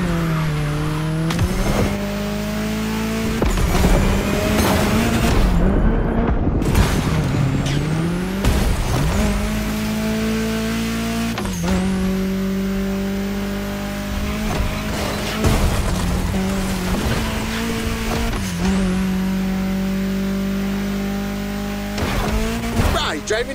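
A Honda Civic driven hard through Honolulu's city streets in The Crew Motorfest, its engine loud and close, revving up and dropping through repeated gear shifts, with bursts of tire squeal along the way.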